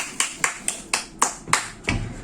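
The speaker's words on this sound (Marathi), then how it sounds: "टाळ्या वाजव ना, टाळ्या वाजव ना" Seven crisp hand claps ring out at a slow, steady pace, close by and loud, with no talking.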